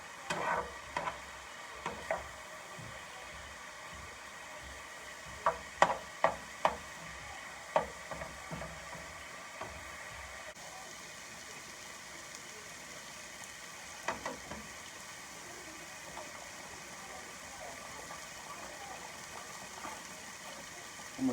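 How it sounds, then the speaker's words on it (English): Sausage and onions sautéing in a pan, a steady soft sizzle with scattered clinks and scrapes of stirring in small clusters, no one speaking. "you just want to saute this sausage up real good"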